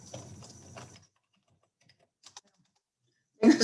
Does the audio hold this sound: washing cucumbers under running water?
no